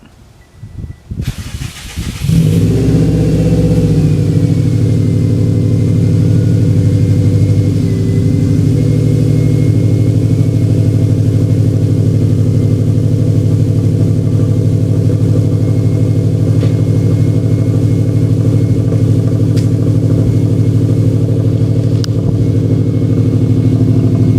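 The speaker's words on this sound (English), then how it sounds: "let's grab a cold start for the boys" A neglected Subaru WRX cold-starting: a brief crank catches into a loud, deep, rumbling idle that settles and holds steady and close for over twenty seconds, with no talking.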